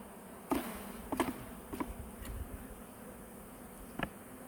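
Bees buzzing around an open beehive, a steady soft drone close by with a few sharp taps and knocks from handling the hive frames, no talking.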